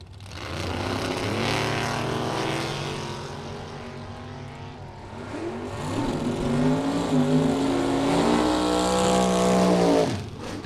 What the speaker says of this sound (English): Looks like a Camaro or a Firebird body car.